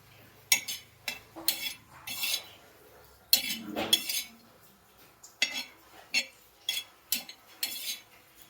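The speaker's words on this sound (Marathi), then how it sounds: "खोबरं भाजून घ्यायचंय आता पहिल्यांदा" Grated coconut roasts in a pan, stirred with a metal spoon that gives a run of sharp scrapes and clinks in an uneven rhythm, close and fairly loud, with no talking.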